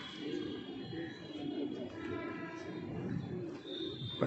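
A pigeon coos softly amid a steady murmur of nearby birds and room noise, low and continuous, fairly faint.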